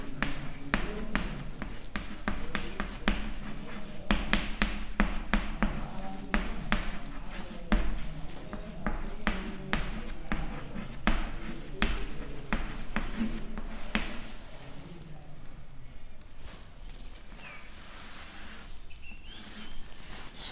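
Close, steady scratching and tapping of a pen writing maths equations by hand on paper, with rhythmic strokes over the whole stretch and no talk.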